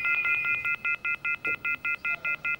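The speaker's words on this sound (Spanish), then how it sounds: "ya tenemos a Victoriano al otro lado del teléfono" Touch-tone telephone dialing during a Spanish radio call-in show: a rapid run of about a dozen evenly spaced beeps, clear and close after an opening longer tone, with no talk over them.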